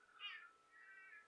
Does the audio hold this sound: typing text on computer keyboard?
no